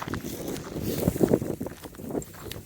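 Wind gusting outdoors on a snowy winter walk, a low rumbling buffet against the microphone that swells and eases over a few seconds, with no talk.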